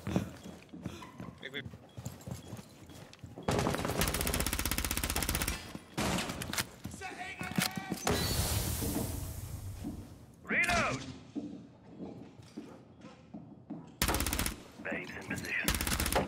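Gunfire in the tactical shooter Rainbow Six Siege comes in loud bursts of automatic fire and sharp single shots, separated by quieter gaps of in-game clatter and movement. Players' voices break in between the volleys.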